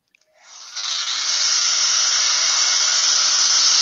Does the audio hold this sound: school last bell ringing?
no